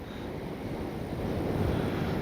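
Outdoors, wind buffets the microphone with a steady low rumble while a 1220 mm FMS Ranger radio-controlled glider flies on a windy slope, and nobody talks.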